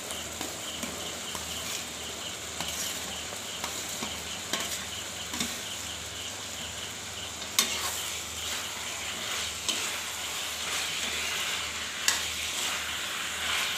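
Potatoes stirred into masala in a pan for a tomato-potato curry, steady frying sizzle with irregular scraping and clacking of the spoon against the pan.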